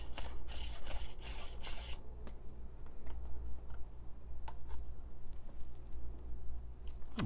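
Espresso grounds are stirred with gravity distribution tools, giving a quick run of soft rhythmic raspy scratches up close, then sparse light ticks and taps against a low, quiet hum.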